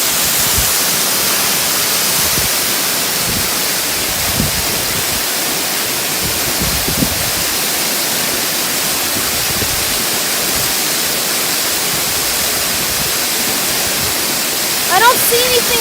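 Water pours over a waterfall in a spring woodland stream, a loud, constant broadband rush that fills the scene without pause.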